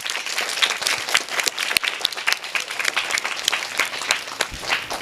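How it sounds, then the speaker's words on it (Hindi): Children at a school burst into lively, close applause, a dense patter of many small hands clapping continuously with a few louder individual claps mixed in. "तो बच्चों, इनके लिए एक ताली हो जाए"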